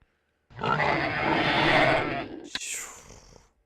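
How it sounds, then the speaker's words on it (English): A pig character in the Babe PS2 video game lets out one drawn-out, nasal oinking grunt lasting about two seconds, followed by a short click and a fading bleat-like tail. "Oh, and it counts my oinks as well."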